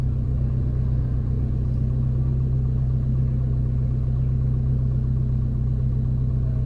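A Toyota runs on a track, its engine a steady low rumble, close and constant, with no clear rise in revs and no voices.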